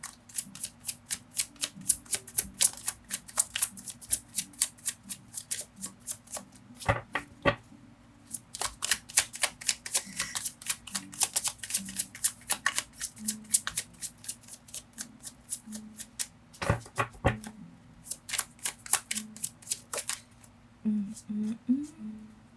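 Tarot cards being shuffled by hand in repeated quick bursts of crisp riffling and flicking, close and fairly quiet, with short pauses between rounds.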